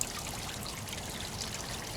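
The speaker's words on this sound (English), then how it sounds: "that water starts shooting up and creates a vacuum" Water in a koi pond shoots up through a vacuum that sucks leaves and debris into a net, making a soft, continuous trickling and splashing that stays faint and steady with no voices.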